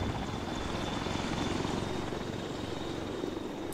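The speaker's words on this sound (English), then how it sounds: "Another helicopter coming in to deploy." Helicopter flying in within the video game Arma 3 on the Altis map, a steady rotor and engine drone holding at constant loudness throughout, no voices over it.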